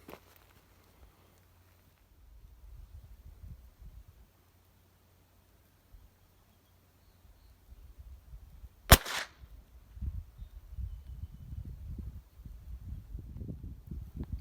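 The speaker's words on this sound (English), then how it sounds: "that was a pretty good first solid hit with the unbarricaded 22 LR out of the Nylon 66 rifle" A single sharp .22 LR rifle shot from a Nylon 66, fired unbarricaded outdoors at a watermelon about 50 yards off, cracks out loud amid quiet rustling and footsteps.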